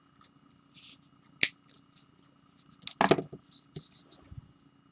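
Scissors snip beading thread close by, one sharp cut followed by a cluster of crisp snips about a second and a half later, with faint handling sounds around them.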